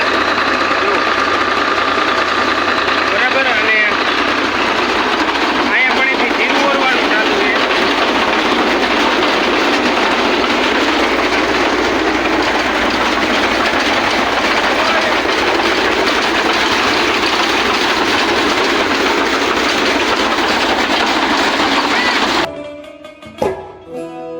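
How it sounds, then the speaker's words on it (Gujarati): A huller machine runs steadily while cleaning cumin, a loud continuous mechanical roar and rumble that holds for about twenty seconds before cutting off abruptly near the end. "તો હલર ચાલુ થઈ ગયું"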